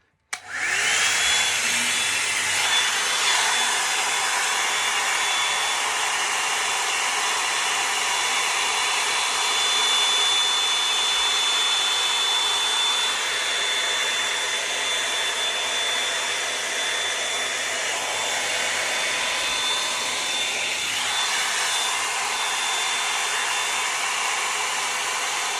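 A hair dryer blows on its hottest setting during hair drying and styling, switching on abruptly and then holding a loud, steady whooshing whine close by for the whole stretch with no talking.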